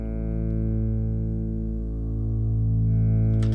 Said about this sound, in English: if you want a sort of a really slow attack on this bass guitar